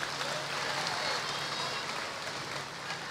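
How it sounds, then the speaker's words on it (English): A graduation ceremony crowd applauds the graduates' families as a dense, even hiss of many hands clapping in a large hall. It is steady and moderately distant, with no voices standing out. "So let's applaud all our families."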